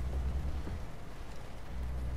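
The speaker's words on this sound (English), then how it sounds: "the rain just coming down across your windscreen" Rain falling on a truck windscreen in Euro Truck Simulator 2, a soft steady patter over a low engine hum, with no talking.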